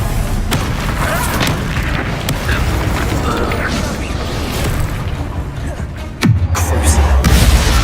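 A Bombarda explosion spell in Hogwarts Legacy lands late as a sudden heavy boom with a deep rumbling tail, rising out of busy combat clatter and scattered impacts.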